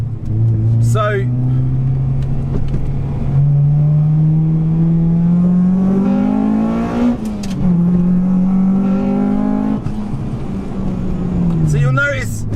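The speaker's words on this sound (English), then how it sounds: "you'll notice when VTEC kicks in on this, it is loud" A high-mileage Honda Civic Type R engine revs up close, its drone climbing in pitch as VTEC engages, turning louder and harsher before easing and climbing again.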